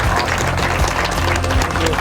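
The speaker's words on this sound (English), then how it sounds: "let's give him a big round of applause" Steady applause from an audience at a film school guest speaker talk, dense and continuous throughout, with a low rumble underneath.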